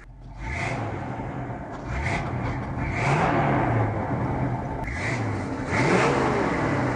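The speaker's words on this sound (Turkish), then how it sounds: "Bas gaza sesimizi alalım." A classic car entered in a rally revs its engine in repeated throttle blips while standing, each rise and fall of pitch clear and close, with a rough rasping rumble underneath.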